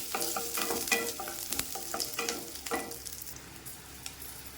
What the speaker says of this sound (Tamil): இது கூட கொஞ்சம் கருவேப்பிலை, சீரகம் இதையும் போட்டு நல்லா வறுத்துக்கலாம்